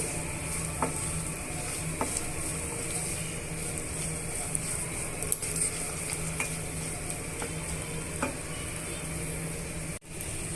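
Peanuts, roasted gram and lentils fry in a pan with a steady, close sizzle, while occasional light taps from stirring rise above it and a sharp knock comes near the end.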